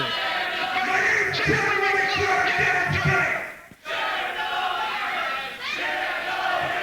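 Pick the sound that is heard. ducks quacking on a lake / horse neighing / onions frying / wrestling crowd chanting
wrestling crowd chanting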